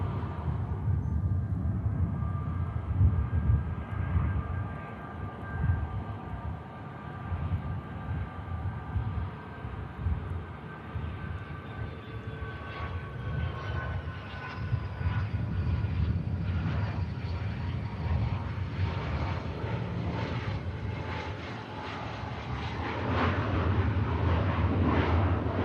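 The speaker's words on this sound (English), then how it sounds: "Beautiful BizJet about to touch down." Business jet descending to touch down at Manchester Airport, its engine roar steady and loud throughout, with a rising whine and broadband rumble growing slightly stronger toward the end.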